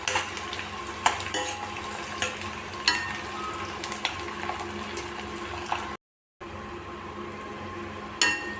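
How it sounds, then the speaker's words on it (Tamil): Shallots and garlic sauté in a pan, a continuous close sizzle with repeated spoon scrapes and taps against the pan, briefly cut to silence before the frying resumes. "சின்ன வெங்காயம் நல்லா செவக்க வதக்கி எடுத்துக்கலாம்"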